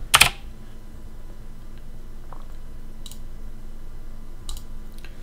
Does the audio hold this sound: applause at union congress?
no